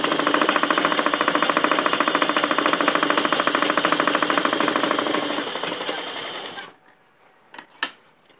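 Sewing machine stitching the side seam of a girls' short jacket, a loud rapid steady chatter of needle strokes running for several seconds before stopping, followed by a couple of faint clicks.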